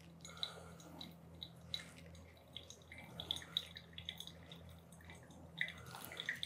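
Water poured in slow circles over coffee grounds, from the outside in and fairly vigorously, producing faint, soft drips and light trickling spread unevenly through a quiet room.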